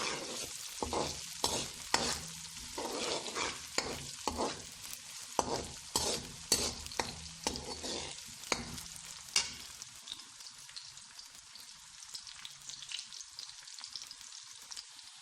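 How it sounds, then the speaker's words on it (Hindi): Chicken with ginger and garlic fries in a pan until brown, with a close sizzle and repeated sharp stirring clatters over the first ten seconds, then a quieter steady frying hiss, with no talk. "ब्राउन होने तक फ्राई।"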